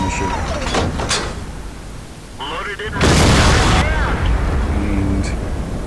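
A tank cannon fires in World of Tanks gameplay, a loud booming blast that rings on for about a second amid other game effects and mechanical clunks.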